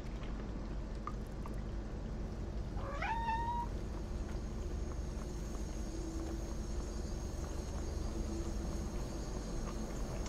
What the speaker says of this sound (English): Kitty's being a little noisy.